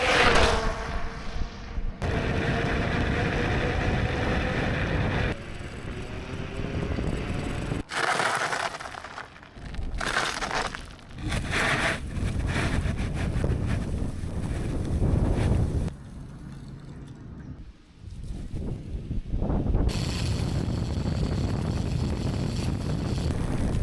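Heavy wind buffeting roars across the microphone while riding a Kukirin G2 Master dual-motor electric scooter, loud and continuous with sudden cuts and gusts and brief quieter gaps.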